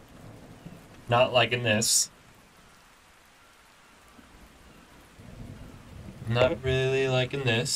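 Rain and rumbling thunder in the video game Ark Survival Ascended form a low steady background under someone speaking at the start and end of the clip.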